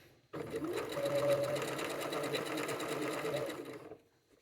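Sewing machine stitching a tote bag seam, starting abruptly with a steady fast mechanical whir and rapid needle chatter lasting about three and a half seconds, then stopping, close and moderately quiet.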